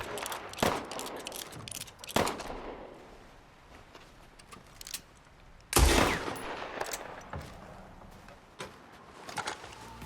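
Gunfire from the video games Resident Evil Village and Red Dead Redemption 2 rings out in scattered sharp shots and short bursts, with one heavier blast midway, over faint ambient game sound.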